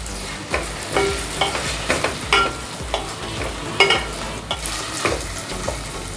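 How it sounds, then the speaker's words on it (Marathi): Tomato, potato and green chilli pieces being stir-fried in a pan for spinach dal, with a steady close sizzle and regular scraping stirs throughout. "टोमॅटो बटाटा हिरव्या मिरचीचे तुकडे परतून घेते व्यवस्थित"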